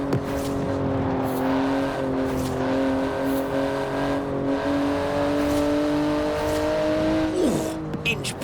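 A Porsche 911 GT2 in Forza Horizon 4 drives steadily at high revs, its engine drone holding a constant pitch for several seconds, then shifting with a brief tire-squeal near the end, under faint talk.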